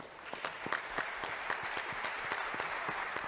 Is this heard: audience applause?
yes